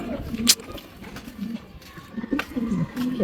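Racing pigeons coo softly at a loft as birds come back from a 236 km race, with low coos and a wing flutter close by and people talking.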